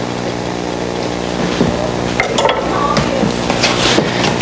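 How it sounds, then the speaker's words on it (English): Shallots sauté in a hot pan with a continuous sizzle, while a utensil stirs and scrapes, producing scattered clinks and scrapes that grow busier toward the end. "So you saute the shallots until they're translucent."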